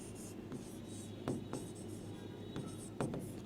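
A pen scratches across paper while chemistry notes are written, with soft continuous scribbling and several sharper taps and strokes, close and quiet.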